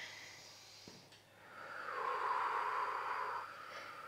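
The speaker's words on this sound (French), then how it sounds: "on inspire." A person breathing in slowly and audibly through the nose during a thigh stretch in a sports massage of the quadriceps, a soft close inhale swelling over about two seconds.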